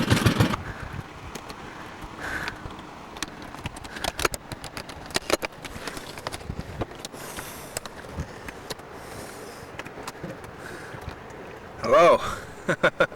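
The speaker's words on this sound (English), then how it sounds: "the wind is starting now, it's against us" Wind gusting over open water by the China Sea near the 100 Islands in the Philippines, heard from a boat as steady buffeting with sharp microphone thumps and a louder burst near the end, while people talk intermittently.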